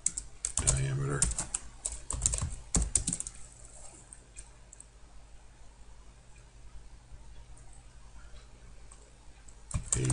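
Computer keyboard typing while drafting notes in 3D modeling software: a few loud bursts of clicks near the start, short talk early on, then faint scattered keystrokes and a final burst at the end.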